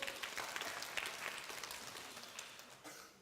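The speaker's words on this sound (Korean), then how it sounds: "다시 한번 우리 박수 한번 부탁합니다" A church youth-service audience claps and applauds, faint and somewhat distant, with scattered individual claps standing out in a steady wash that slowly fades.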